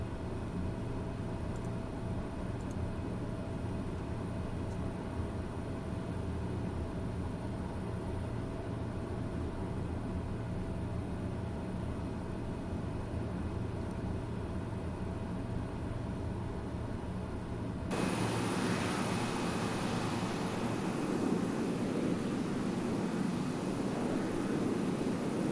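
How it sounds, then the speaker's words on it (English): Steady, droning airplane engine in a VATSIM flight simulator, a constant low hum that brightens and grows slightly louder partway through, with no voices over it. "I like this plane, but it could use a little love in the sound department."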